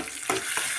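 Vegetables being stirred in a frying pan for a cluster bean and tomato curry, with two distinct scraping stirs over a steady close sizzle and no talking.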